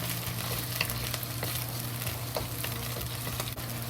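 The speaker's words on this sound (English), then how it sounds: "Fry the soybean paste." Soybean paste sizzles and fries in a pan while being stirred, a steady close crackle with scraping strokes throughout and no talking.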